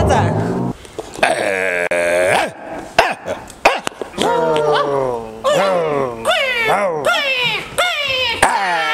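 A man imitates a dog with his voice at a comic animal-sound contest, giving a string of close, loud barks, growls and whines that rise and fall over about nine seconds.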